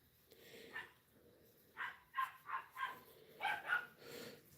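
A dog, the household's newest, barks in a burst of several sharp, fairly close yips and barks, with a few more after a short pause, over a quiet indoor room.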